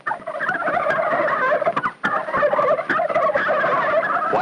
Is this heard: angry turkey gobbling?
yes